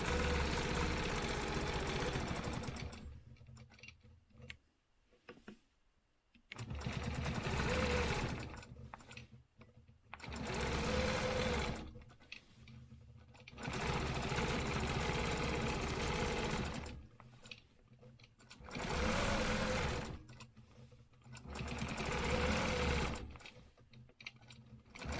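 Sewing machine stitching a zigzag line around a layered stencil quilt, a loud steady mechanical whir in several long runs of a few seconds each, broken by short pauses, with no talk.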